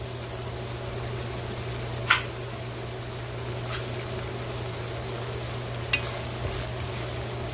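Tinned callaloo and saltfish are stirred in a pan over a steady low hum, with a soft sizzle and a few sharp clicks of the spoon against the pan.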